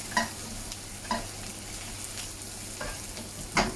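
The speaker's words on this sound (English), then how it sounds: "I'm just going to put 1 garlic clove in, just cook that off for about a minute" A single garlic clove frying in a pan for venison casserole, a steady near sizzle punctuated by a handful of spaced utensil scrapes and taps.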